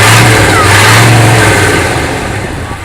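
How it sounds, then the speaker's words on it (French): Bigfoot monster truck with a MAN transfer box, its engine revved hard in a loud sustained roar that eases off toward the end. "Maintenant, quelques coups d'accélération sur cette machine."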